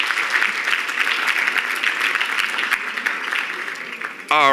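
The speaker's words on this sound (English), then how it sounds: "Big round of applause" Audience applause fills a charity gala auction hall after an item sells, a dense steady wash of clapping that carries on evenly before a voice cuts in near the end.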